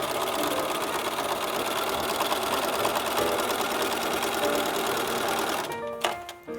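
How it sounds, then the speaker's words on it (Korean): A sewing machine runs steadily at speed with a dense, rapid mechanical whir, then stops abruptly near the end, leaving a few clicks. "이 재봉틀 돌아가는 소리를 들으면"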